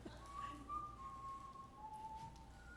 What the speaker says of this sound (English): On my walks, I've been whistling the tune.